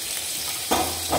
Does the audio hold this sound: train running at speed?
no